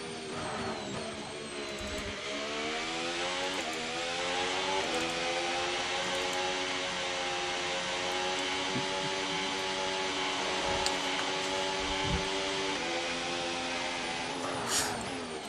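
Race car engine on a flying lap around the Madrid circuit in a racing video game, a steady high-pitched drone that climbs and dips with gear changes, loud and continuous throughout with no talk.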